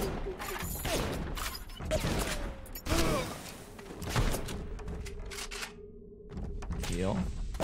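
Pistol shots ring out in a video game, a series of sharp cracks spaced a second or so apart amid other game noise, under a speaker who talks across much of it.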